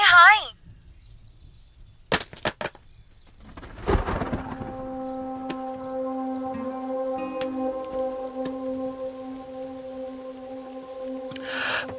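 Rain falling with a rumble of thunder in a Telugu action movie scene, a sharp thud followed by sustained tonal score over a faint wash of rain, with a short voice at the start.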